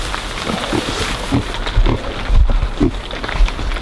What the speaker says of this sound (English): They're in there digging that up, rooting it up.